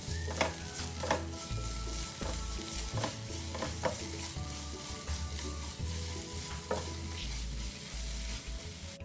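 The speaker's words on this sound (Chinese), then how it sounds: "继续拌炒至蔗糖融化。" Chili paste cooked with cane sugar in a wok, stir-fried for crispy spicy dried fish and peanuts: a low steady sizzle under repeated scraping strokes of a spatula, close and moderately quiet.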